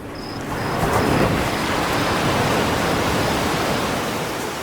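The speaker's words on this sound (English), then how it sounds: "waves" A broad wash of surf swells up and rushes steadily, a loud continuous roar of breaking waves with a few faint chirps at the start.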